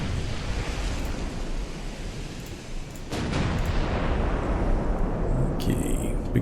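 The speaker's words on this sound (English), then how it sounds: "big shell's going down range" Warship guns fire armour-piercing shells in the naval combat game Ultimate Admiral: Dreadnoughts. A dense, continuous roar is punctuated by a heavy boom about halfway through, followed by a sustained, louder rumble.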